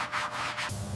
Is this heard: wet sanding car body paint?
yes